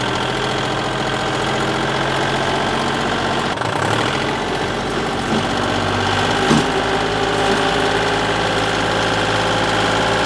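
A tractor engine idles and runs steadily at a moderate level while a dirt jump is built on a two-stroke motocross track, a continuous droning hum with faint knocks and no talk.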